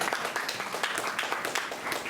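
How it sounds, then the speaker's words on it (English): An audience claps together at a Goa exhibition of wild vegetables and medicinal plants, a steady, fairly close wash of many hands that holds evenly for about two seconds. "we can give a big round of applause for sir"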